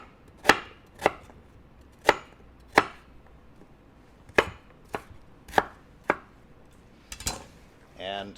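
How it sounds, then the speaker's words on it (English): Food chopped coarsely with a knife on a board in a teaching lab: about ten sharp, distinct knife strikes arrive at an uneven pace with short pauses between them, close and clear against a quiet background. "Once again, we'll just chop that coarsely."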